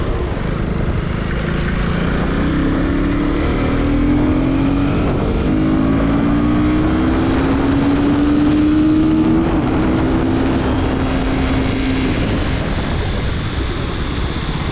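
A 2024 Husqvarna Vitpilen 250 motorcycle engine hums steadily under riding wind, its pitch climbing and settling in stretches as gears change, loud and close with no voices.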